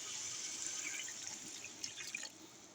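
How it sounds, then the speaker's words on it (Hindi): A little water is poured into a pan of ginger-garlic paste for prawn biryani, giving a soft, faint trickle and splash that fades toward the end. "थोड़ा सा पानी डालेंगे इसमें,"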